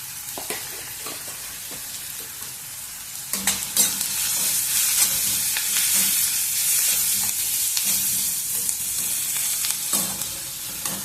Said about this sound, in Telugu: ఉల్లిగడ్డలు వేగడానికి ఒకటే కొంచెము ఉప్పు వేస్తున్నాను